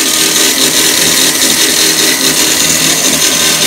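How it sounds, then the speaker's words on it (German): A power saw cuts through metal profiles in a continuous loud, steady whine that fills the whole stretch without a break. "die Profile werden gesägt"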